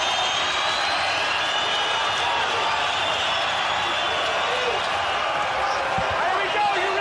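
A Belfast crowd at a Bellator MMA fight roars before the final round, a broad sustained cheer filling the arena with scattered thuds, under an announcer's voice.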